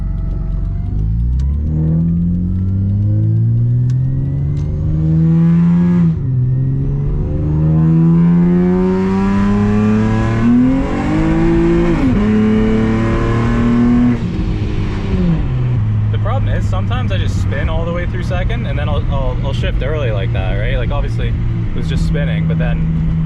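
Supercharged Acura TL Type-S pulling hard in second gear on a road, engine note climbing steadily in pitch through several rising sweeps before easing off, loud and close throughout with someone talking over it.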